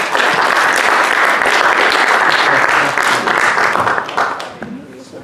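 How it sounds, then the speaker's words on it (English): A comedy-night audience applauds as a comedian is called to the stage: dense, loud clapping from a crowded room holds steady for several seconds, then thins and fades away. "let's have a round of applause for Alan."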